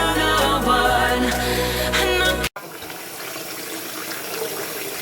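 Music plays first, then cuts to a tap running steadily as seitan dough made from bread flour is rinsed under it, a continuous close splashing rush.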